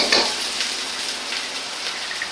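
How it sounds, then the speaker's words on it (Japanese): Ginger stir-frying in a pan, a dense, loud, continuous sizzle with a faint scrape of stirring at the start, close up and without any voice. "香りが出るように炒めます。"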